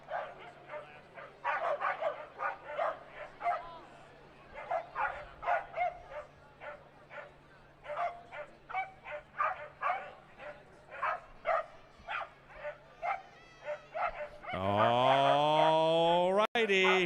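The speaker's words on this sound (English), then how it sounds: "Oh, these corgis raring to go. You can hear it on the gate mic." Corgis bark excitedly in the starting gate before a dog race at a horse racetrack, a rapid string of sharp yapping barks picked up by a nearby gate microphone, ending as a loud siren-like rising tone cuts in.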